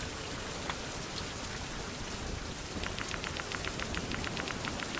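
Steady rain in the 16th-century survival game Survival: Fountain of Youth, a continuous even patter and hiss, with a quick run of light ticking sounds near the end, no talking.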